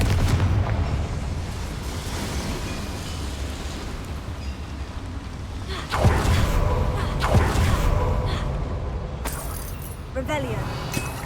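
A Confringo fire spell blasts inside a mine in the game Hogwarts Legacy, a sudden booming explosion midway through surrounded by rumbling in-game ambience, followed later by a second, sharper burst.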